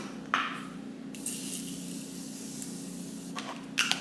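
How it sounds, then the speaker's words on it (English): Short hissing bursts of a Morphe makeup setting spray misting close by, two quick sprays separated by quiet. "I'm gonna go in with my Morphe setting spray."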